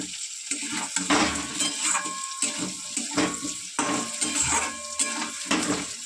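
Fish frying in mustard oil in a pan sizzles softly, with bursts of clinking and stirring at intervals and no voices.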